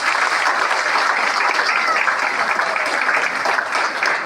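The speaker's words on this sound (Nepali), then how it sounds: "ताली बजाइदिनुहोस्।" A crowd at a Christian wedding ceremony claps in sustained, dense applause that stays loud and even for several seconds, with no talk over it.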